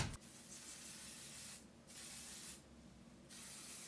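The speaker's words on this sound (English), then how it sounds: "I'm going to grab my hairspray." Hairspray hisses from an aerosol can onto hair in three steady bursts, each about a second long with short pauses between, close and fairly quiet.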